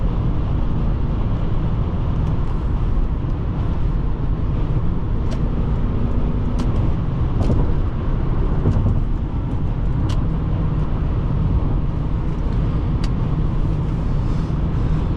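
A 1995 Lexus LS400 cruising at speed, with a steady, loud wash of engine drone, tyre roar and wind noise throughout, plus occasional faint clicks and rattles from inside the cabin.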